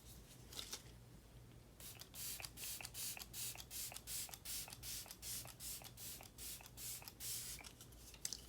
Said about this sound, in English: I did use the Elf X Jen Atkins mister on this.